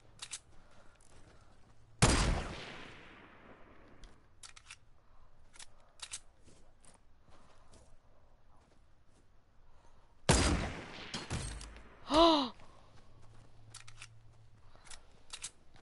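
Gunfire cracks in a Fortnite match: two sharp, loud single shots spaced several seconds apart, with a decaying tail after the first. A brief whistling, tonal effect follows the second shot over quiet background.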